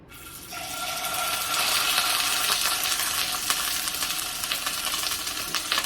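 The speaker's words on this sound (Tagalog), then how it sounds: "Iba-brown lang natin siya guys, yung chicken." Chicken browning in a hot kawali for chicken adobo, a loud, dense sizzle of frying grease that swells within the first second and crackles steadily with scattered pops, no voices.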